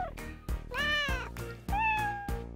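A child imitates a cat with a voice, making two drawn-out meows with rising and falling pitch, close and clear with nothing else around them.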